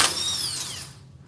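Short whine of an impact wrench spinning off wheel hub bolts, a near, high mechanical whir that drops in pitch and fades within about a second.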